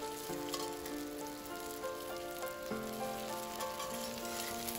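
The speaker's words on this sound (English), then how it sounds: "Let the potato to fry for about 3 minutes on medium heat." Potato chunks fry in oil in a pan over medium heat, a faint, steady, even sizzle with no talking.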